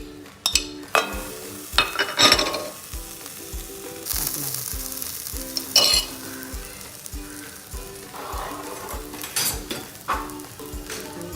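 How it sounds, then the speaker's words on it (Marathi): Almond pieces and gram flour roasting in ghee over a low flame for almond sheera: a continuous sizzle is broken by repeated sharp clinks and scrapes of a spoon against the pan, with no talking. "चांगल्या प्रकारे तुपामध्ये आपण गोल्डन होपर्यंत भाजून घेणार आहोत"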